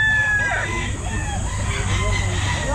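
A Kelso stag gamefowl rooster clucks and calls at a busy pet market, brief bird sounds over a steady crowd hum with people talking nearby.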